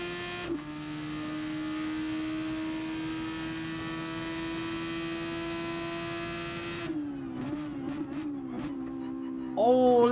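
A GT Sport racing-game car sits on a steady, droning engine note that shifts pitch partway through, followed by bursts of crackling revs; a voice talks briefly underneath.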